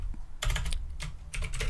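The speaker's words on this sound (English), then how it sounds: "this is where, of course, you will start typing this" Bursts of typing on a computer keyboard, quick clustered key clicks in three short runs separated by brief pauses, close and clear with no talk.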